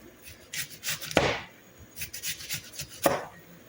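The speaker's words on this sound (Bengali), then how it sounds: "বাদের পেঁয়াজ ছোটো ছোটো করে কেটে দেবেন।" A knife cuts an onion into small pieces on a board, close and fairly soft, with two sharper chops standing out among lighter scraping strokes.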